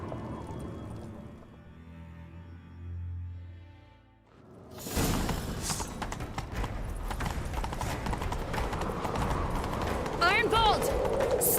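Galloping horse in Witcher 3: after a quieter opening, loud rapid hoofbeats kick in and pound on steadily and close, with a faint snort near the end.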